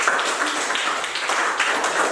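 A classroom group claps for a presenting team, a fairly soft, continuous patter of many hands.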